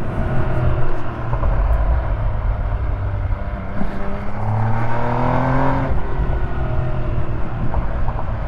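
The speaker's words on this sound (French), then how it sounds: "Il y a des petits bruits de pop pop pop pop pop." An MV Agusta Dragster RR motorcycle engine rumbles loudly and close, with rising and falling revs through gear changes on a road and a roundabout, as the exhaust crackles with small pops.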